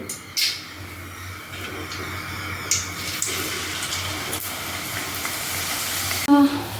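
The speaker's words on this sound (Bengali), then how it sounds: "এখন মা লুচি ভাজছে" Luchi deep-frying in hot oil at home, giving a steady, moderately loud sizzle and bubbling with a few sharper clatters from the pan, and no talking.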